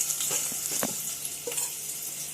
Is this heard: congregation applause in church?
no